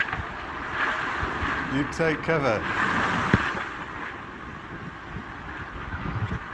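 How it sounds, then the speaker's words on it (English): Wind and rushing water roar around a Volvo Ocean Race yacht as it surfs down huge waves at sea, a broad steady wash that swells and eases, with a few shouted words partway through. "we're just surfing these huge waves"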